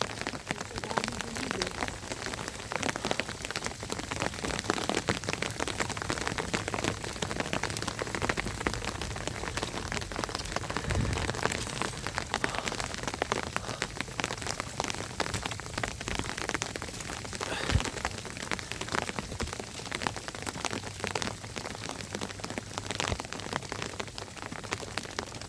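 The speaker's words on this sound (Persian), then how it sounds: "وای بارون هم شدید شد." Heavy rain pours down steadily as a dense, loud hiss of drops striking surfaces, continuous and close for the whole stretch, with no talking.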